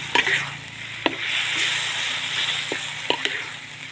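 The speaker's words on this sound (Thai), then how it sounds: "เราก็ผัดไฟแรงเลยนะคะ" Holy basil stir-fry with pork sizzles hard over high heat in a pan while a spatula scrapes and clacks against the metal in a few sharp knocks, the frying hiss steady underneath.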